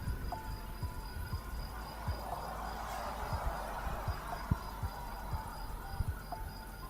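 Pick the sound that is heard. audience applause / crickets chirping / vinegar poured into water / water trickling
crickets chirping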